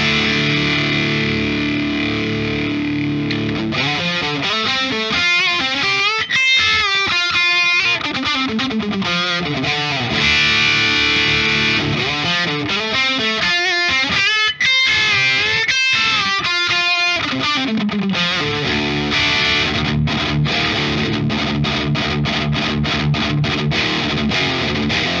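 Electric guitar driven through an Anasounds Ego Driver modular overdrive pedal with its gain turned up, playing continuous distorted chords and lead runs, loud and close throughout with no talking.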